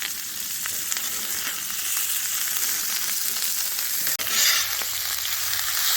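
Shrimp, chorizo and vegetables sizzle steadily on a hot griddle for fajitas, a loud, bright, continuous frying hiss with a short scrape partway through.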